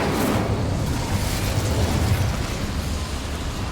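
A fire spell bursts out in the Hogwarts Legacy game, a loud roaring whoosh of flame with a crackling burst that fills the moment and holds steady before fading slightly.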